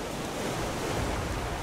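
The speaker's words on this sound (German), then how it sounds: "Wellengang ist auch natürlich stürmisch." Stormy ocean waves in the Raft survival game: a steady, loud wash of surf and wind rushing without pause, with no voices.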